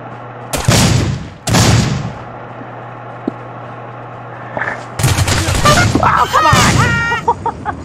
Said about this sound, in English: What's up with that shotgun?